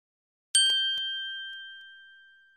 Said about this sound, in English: Big Ben is a very big bell.